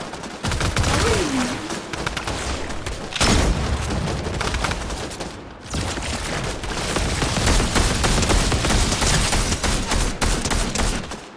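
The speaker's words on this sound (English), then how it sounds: "Who got a drum gun?" A drum gun fires in a chaotic 50 v 50 Fortnite match: sustained, dense automatic fire with booming blasts runs throughout, loud and close, with brief gaps between long bursts.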